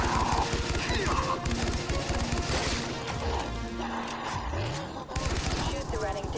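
Rapid, continuous gunfire from shooting at the running dead in Far Cry 3: Blood Dragon, a dense unbroken barrage that stays loud throughout, layered with game noise and occasional voices.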